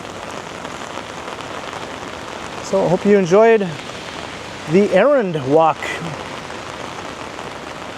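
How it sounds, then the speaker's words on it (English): Rain falling on a downtown Toronto street, a steady hiss of drops on wet pavement running throughout, with a person talking briefly over it in two short stretches. "We had rain at the beginning, and then no rain, and then rain again."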